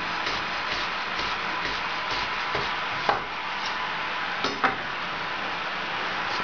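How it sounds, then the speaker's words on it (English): A knife minces parsley for gremolata on a board, giving soft, uneven chopping taps and a few sharper knocks over a steady broadband hiss, with no voices. "now we're going to make the gremolata. Little minced parsley"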